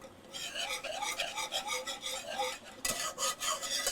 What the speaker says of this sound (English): Let me get a whisk out real quick. You mix this together